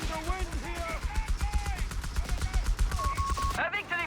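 Machine-gun fire in a Company of Heroes 3 multiplayer match, rapid bursts rattling steadily under continuous commentary from a voice.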